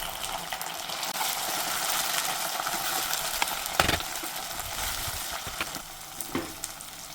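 A single tomato fries in hot oil for a chicken liver and gizzard masala, giving a steady bright sizzle with a few sharp stirring clinks and sputters near the end.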